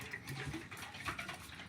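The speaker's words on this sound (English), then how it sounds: "Can you hear the water in there?" Water sloshes inside a sealed, soldered metal water drum, a soft, close, irregular swishing and gurgling that stays quiet throughout.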